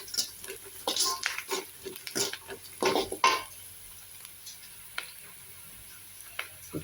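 Drumstick leaves being sautéed in a pan for a South Indian drumstick-leaf rasam, with scattered bursts of stirring and scraping sounds over a soft background sizzle, quieter toward the end.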